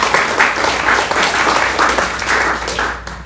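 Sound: audience applause

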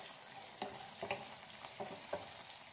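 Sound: okra frying in oil

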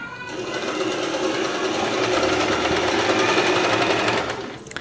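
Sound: Usha Janome Dream Stitch sewing machine zigzag stitching a saree

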